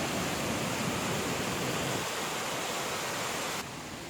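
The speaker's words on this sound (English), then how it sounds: "There's that little creek running down towards the fall where it lands in the pool." Small creek rushing down toward a waterfall pool on a forest hiking trail, a steady broadband wash of flowing water close by that drops slightly quieter near the end, with no voices.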